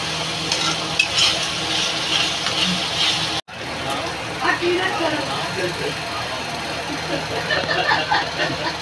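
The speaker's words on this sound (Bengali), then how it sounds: "মশলাটা ভালো করে ভাজা হবে" Spice masala frying in oil for a goshti aloo dish, a steady close sizzle with stirring clatter throughout, briefly cut by a sharp break, while a person talks over it.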